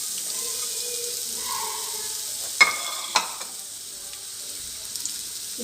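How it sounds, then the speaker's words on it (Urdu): Onions fry in about a cup of cooking oil with a soft, steady hiss, joined by a couple of brief utensil clinks near the middle. "آئل کے ساتھ ہم اس میں پیاز شامل کر رہے ہیں"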